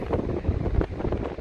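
Strong wind buffets the microphone on a beach during night fishing, a steady low rumble with gusty swells throughout and no one speaking.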